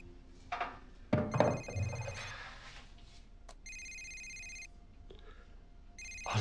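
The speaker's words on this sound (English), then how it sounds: "It's not that important of a phone call." Telephone ringing in a quiet room in a romance drama, with two bursts of electronic trilling tones separated by a pause, clear and fairly close, after some brief movement noises and no talk.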